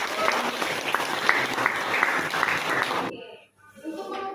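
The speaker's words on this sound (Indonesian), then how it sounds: "Tepuk tangan dulu untuk itu." Students in a classroom clap together in a brisk, dense burst of applause lasting about three seconds, then it stops abruptly, leaving a faint voice and a few stray sounds.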